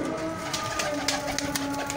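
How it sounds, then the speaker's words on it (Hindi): A breeder pigeon in an old-city loft at Bhati Gate, Lahore, coos in low, steady murmurs close by, with faint background noise around it. "ये बड़ा ब्रीडर कबूतर है माजल"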